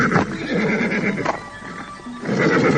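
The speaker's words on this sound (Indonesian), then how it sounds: "Biarlah kuda ini merumput dulu." A horse whinnies and neighs loudly and close by, with hoof clip-clop audible, at a roadside stop where it is left to graze; no one speaks.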